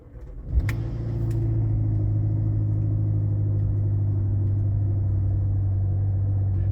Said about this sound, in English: the car should crank over pretty good